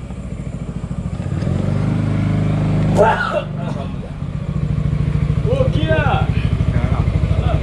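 A Yamaha Nmax scooter with an upgraded stage 1 pulley idles at about 1000 RPM, giving a steady low pulsing putter with a brief swell of revving midway. Someone speaks briefly over it.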